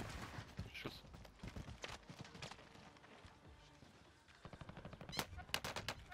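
Rapid gunfire bursts from the Warzone battle royale game, with scattered shots early on and a sharper cluster of loud, closely spaced gunshots near the end, over background game noise.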